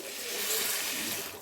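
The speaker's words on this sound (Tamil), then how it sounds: "இப்போ கொஞ்சமாக தண்ணி ஊற்றி" A brief, close rush of water splashes and hisses steadily into a cooking pan of channa masala for a second or so, with no voices.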